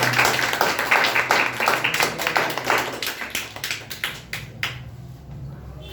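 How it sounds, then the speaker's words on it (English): A group claps for teachers and friends, a dense patter of hands that thins and fades toward the end, with no talk over it. "a clap for them"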